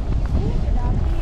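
Strong wind on a white-sand beach on Mararison Island, Culasi, Antique, roars as steady, loud, broadband buffeting against the microphone while a person speaks underneath.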